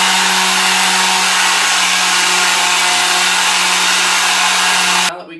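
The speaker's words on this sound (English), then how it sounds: "I'm going to take my sander and I'm going to round those corners" An electric sander rounding the corners of a wooden valet piece: a loud, steady motor whine with a constant hum runs without a break, close by, then cuts off sharply at the end.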